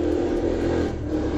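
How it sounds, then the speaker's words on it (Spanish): A motorcycle passes nearby with a steady, loud engine drone and a slight rise and fall in pitch, heard alone without talk. "Esperen que pase la moto."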